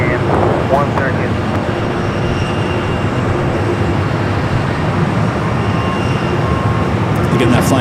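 A Philippine Airlines heavy jet departs Los Angeles International, its engines giving a steady loud broadband roar throughout, with faint radio and voice sounds mixed in.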